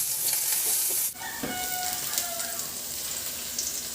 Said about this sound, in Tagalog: Sa disim na kawali, igisa ko na yung bawang.